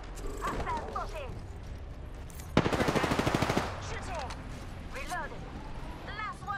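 Rapid automatic gunfire from an Apex Legends match bursts out in a loud, dense volley of about a second, with short synthetic voice callouts speaking before and after it.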